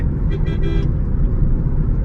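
Car horns blare in dense traffic on a road between Agra and Shimla, a few short honks over a constant loud roadway rumble.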